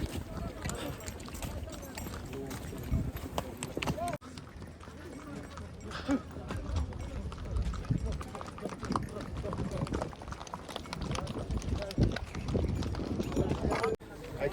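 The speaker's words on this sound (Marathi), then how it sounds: "त्या रस्त्यातनं घोडे आणि पैदल यात्री दोन्ही पण त्याच रस्त्याने चालतात" Horses' hooves clip-clop along a concrete mountain path on the Amarnath pilgrimage route between Sheshnag and Panchtarni, irregular steps mixed with crowd bustle and wind, while people talk nearby.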